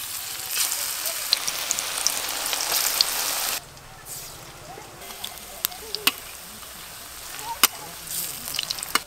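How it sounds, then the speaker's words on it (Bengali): Banana flower fritters in gram flour batter deep-fry in hot oil, first with a dense, crackling sizzle that drops to a softer bubbling, punctuated by sharp pops and spatters. "এবার আমি বড়াগুলো ভেজে নেব"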